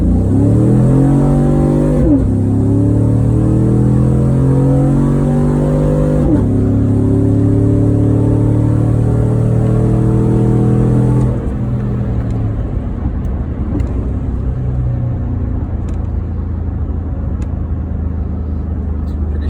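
A car with a 6L80 automatic transmission accelerates from a standstill with traction control on, its engine rising steadily and shifting gears with clear pitch drops, loud and close throughout before easing into a steadier cruise.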